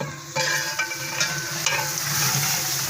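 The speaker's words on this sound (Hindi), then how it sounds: "अभी इसकी हम भुनाई करेंगे 2-4 मिनट" Chicken karahi, cooked in the degi style, is stirred and roasted in a pan, sizzling steadily with scraping spoon strokes and clanks against the metal, close and fairly loud, with no talking.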